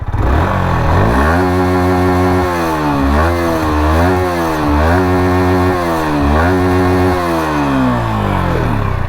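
A racing blue Yamaha R15 V4 motorcycle revs loudly and close, with its engine note climbing and dropping in several sharp throttle blips over a continuous idle.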